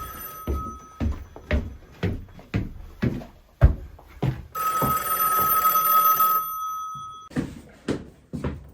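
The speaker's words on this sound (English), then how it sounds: "there goes the phone again" An old telephone bell rings in a house, a short burst of ringing in the middle amid repeated sharp knocks and thumps, close and fairly loud.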